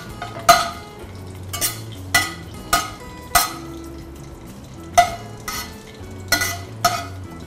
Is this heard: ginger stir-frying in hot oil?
yes